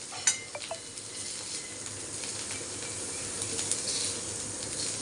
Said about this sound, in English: Now I'll transfer the watermelon rind in this.